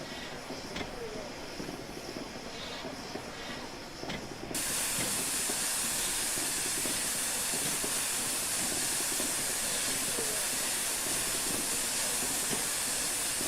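Flying Scotsman steam locomotive moving in Train Simulator, a continuous loud hiss of steam that steps up sharply partway through and then holds steady, with no voices.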